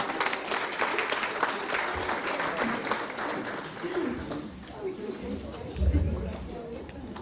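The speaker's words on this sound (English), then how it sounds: "Let's give a round of applause for Councilwoman Alice Chin." Conference audience applauds Councilwoman Alice Chin during an awards segment at a women's conference, a broad wash of steady clapping mixed with crowd chatter and murmuring voices throughout.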